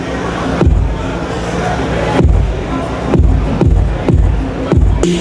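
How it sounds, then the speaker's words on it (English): A layered kick drum thumps in an uneven pattern, deep and punchy, over a dense, noisy wash of background sound. "So here's the bass drum. This is actually two bass drums"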